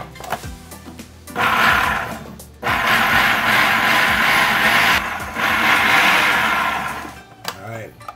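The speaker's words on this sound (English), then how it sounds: "That's awesomeness in a food processor right there." A food processor loudly whirs as it blends a marinade of olive oil, salt and apple cider vinegar, running in two long bursts with a brief pause between and short stops at the start and end.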